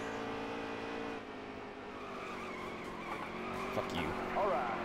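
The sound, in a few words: race car grinding along the wall in NASCAR Heat 3 video game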